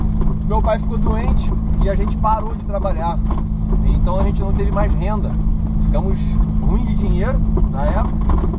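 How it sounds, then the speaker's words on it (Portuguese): A low, steady drone and rumble inside a moving car, loud and continuous beneath someone speaking close to the microphone the whole time. "Desculpa pelo barulho aqui dentro do carro"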